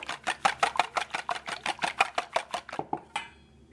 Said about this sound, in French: Dans un saladier, je fouette mes œufs